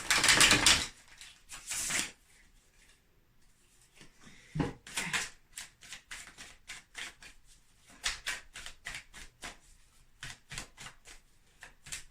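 Tarot cards shuffled and handled in a quick burst, then a series of crisp slapping flicks and soft riffles as cards are drawn and laid down, close and fairly quiet with pauses between.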